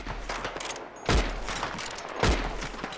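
Gunfire rings out in the Red Dead Redemption 2 online game, a rapid volley of shots with two louder booming blasts standing out amid continuous crackling fire.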